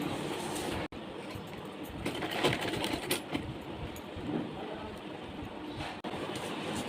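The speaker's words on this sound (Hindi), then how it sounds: "दोनों तरफ सिलाई लगाने के बाद अब हम इसको फोल्ड करते हुए इस तरह से सिलाई लगा लेंगे।" A sewing machine stitches fabric for a heavy Kanha ji outfit, running as a soft, steady mechanical whir with a couple of brief stops. The sound is fairly faint and close.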